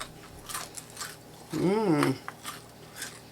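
Crunchy chicken fingers coated in sour cream and onion Ruffles chips bitten and chewed up close, a few crisp crunches around a brief appreciative hum.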